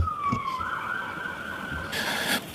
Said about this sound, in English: Hold on, wait for the ambulance, and then speak up.